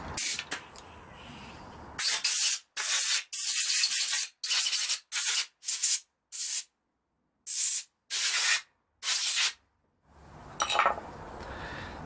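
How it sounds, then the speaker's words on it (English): Compressed air blown in short, loud hissing bursts over BMW E46 330Ci M54 engine parts during VANOS seal work: roughly ten sharp blasts in an uneven rhythm with brief silences between. "Quick blow with compressed air."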